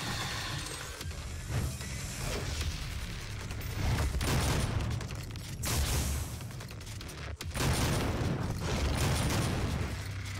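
Dense, continuous gunfire and blasts fill the Doom 2016 video game, with rapid shots and booming impacts layered over a loud, churning background and no speech.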